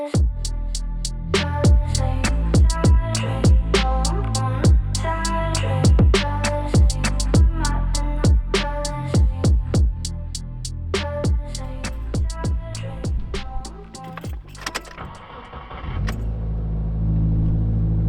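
A Subaru WRX fitted with Perrin equal length headers, engine running and revving close by in a steady series of throttle blips, with a loud, rumbling exhaust note and no talking.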